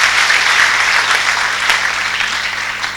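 An audience applauds to God at a Kinyarwanda gathering, a loud, continuous wash of clapping that holds steady throughout and thins slightly at the end.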